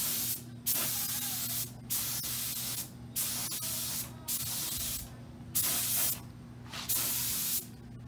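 A spray gun primes aluminum aircraft parts for an RV-10 kit plane in short hissing bursts, seven or so, each about a second long with brief pauses between them, close and steady.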